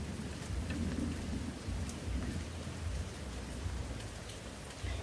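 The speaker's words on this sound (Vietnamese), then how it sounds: "Chiều hôm nay ổng mưa lớn mà ổng lại gầm nữa." Heavy afternoon rain pours down steadily, a dense continuous hiss with low rumbling thunder rolling underneath, loud and unbroken, no talking.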